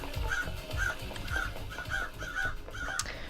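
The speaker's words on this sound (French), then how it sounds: "On entend les corbeaux." Crows cawing in the video game Paradise Killer, a series of harsh, evenly spaced caws over a steady ambient background, fairly faint and with no talk.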